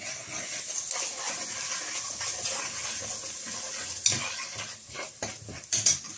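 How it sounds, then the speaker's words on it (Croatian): Minced meat fries with onion in a pan for Serbian-style spaghetti Milanese, a close steady sizzle broken by scraping stirs and a few sharp clinks near the end. "luk nam se ispržio već dovoljno da možemo da stavimo meso"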